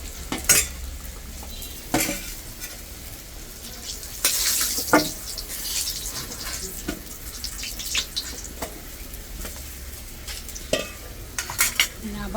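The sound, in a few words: frying rui fish in a pan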